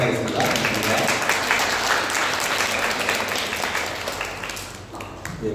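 Congregation applauding during a Sunday church service at Bali Seum Church, a broad, steady wash of clapping from many hands that fills the room and tapers slightly toward the end, with some voices mixed in.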